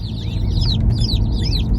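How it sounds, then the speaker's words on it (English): Newly arrived Murray McMurray hatchery chicks peep in a dense, high, overlapping chorus close by, with a low background rumble underneath. "These chicks are from Murray McMurray."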